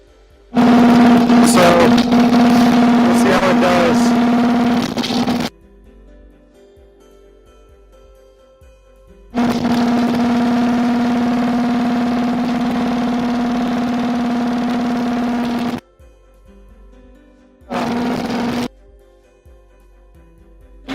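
A boat engine idles in neutral at a dock, a steady close drone with a low hum that cuts out and restarts in separate bursts, with quiet gaps between them.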